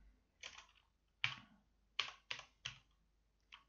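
Keystrokes on a computer keyboard while entering a source-address filter in traffic-analysis software: about six separate taps and short bursts, fairly faint and close, with quiet gaps between them and no talking.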